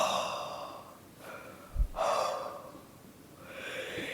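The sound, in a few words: blowing out hot air with mouth wide open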